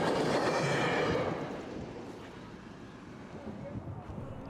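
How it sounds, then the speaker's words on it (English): A SEPTA commuter train rumbles past nearby at a road crossing, loud broadband roar at first that eases into a steadier, quieter rumble as it moves along. "I got stopped at County Line Road for a SEPTA train"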